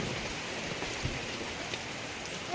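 Steady rain falls in a village setting, a dense, even hiss of drops hitting surfaces close by, with no voices over it.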